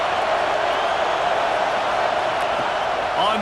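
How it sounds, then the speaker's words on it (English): Home crowd at a football game roaring steadily, a dense, loud and continuous wash of cheering and noise from a packed stadium that stays constant throughout. "how nice is it to have the home crowd going absolutely bananas"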